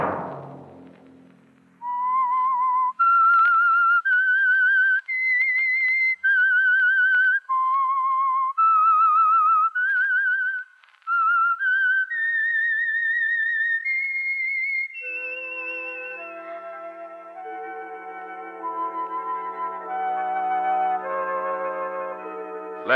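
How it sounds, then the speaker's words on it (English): A lone theme whistle for the vintage radio drama The Whistler, a clear, eerie melodic tune of sustained rising and falling notes, loud and close, ending in a lower, layered orchestral passage. "Let that whistle be your signal for the Signal Oil program, The Whistler"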